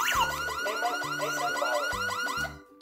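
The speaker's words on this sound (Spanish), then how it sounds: "Ahí podemos observar que empieza a sonar la sirena externa" External siren of a Tuya Smart WiFi and GSM wireless home alarm system wails in a rapid, repeating warble with a pulsing low tone, loud and close, cutting off at the end.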